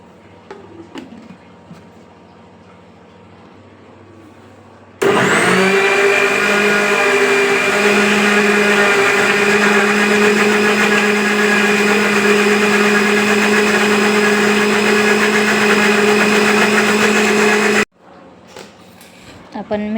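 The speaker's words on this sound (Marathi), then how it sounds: "मिक्सीला फिरून घेणार आहे." A mixer grinder whirs loudly and steadily as it blends biscuits with milk into cake batter, running for about thirteen seconds with a quick start and abrupt stop, framed by quieter moments with a voice before and after.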